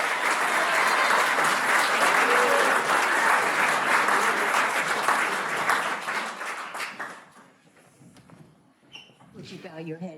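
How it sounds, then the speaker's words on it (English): Wedding guests at 48 Fields in Leesburg, Virginia break into loud, dense applause for several seconds, then the clapping thins to scattered claps and fades into quiet room sound. "Let's give her a round of applause"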